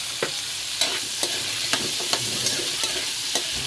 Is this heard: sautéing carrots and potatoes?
yes